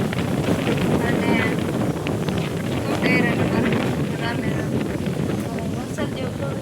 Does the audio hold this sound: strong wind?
yes